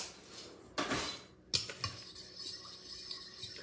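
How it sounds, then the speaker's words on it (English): A fork clinks and scrapes against a bowl while eggs are being whisked, with a few sharp taps and rattling strokes, close and fairly quiet. "Now whisk this together with a fork until combined."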